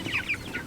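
Baby meat chicks peep in a quick series of short, high chirps, close by and fairly steady, while being moved out onto grass.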